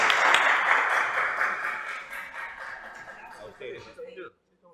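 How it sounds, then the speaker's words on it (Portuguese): An audience at a conference on sexual violence and paedophilia applauds a guest speaker, with clapping strongest at first and then thinning and fading out over a few seconds, and faint voices underneath. "vamos a brindar un fuerte aplauso a la licenciada."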